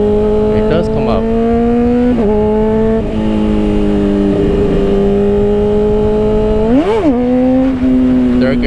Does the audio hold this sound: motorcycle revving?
yes